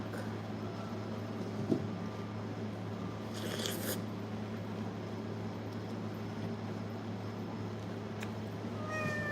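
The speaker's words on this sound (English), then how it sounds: "Let me put this cat outside." Domestic cat indoors, faint meows heard once or twice over a steady low hum of background noise, with no speech.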